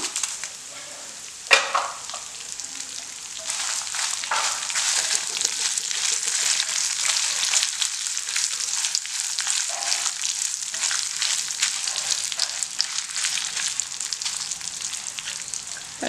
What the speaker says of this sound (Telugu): నూనె కొంచెం వేడెక్కగానే నేను ఇందులో ఆవాలు జీలకర్ర అనేది వేసేసుకుంటున్నాను